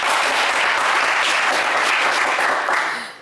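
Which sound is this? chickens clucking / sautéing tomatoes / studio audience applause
studio audience applause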